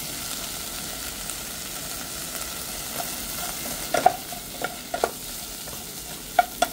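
Onions frying in a pan for Thai Tom Yum Goong soup, a soft steady sizzle underneath with a few sharper clinks and scrapes of stirring in the last few seconds, fairly quiet overall.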